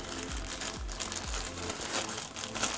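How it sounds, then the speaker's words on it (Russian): Close crinkling and rustling of a small plastic bag being carefully opened to remove a USB-C cable packed with a tablet, with soft irregular crackles over a few seconds. "Аккуратненько вскрываем пакетик"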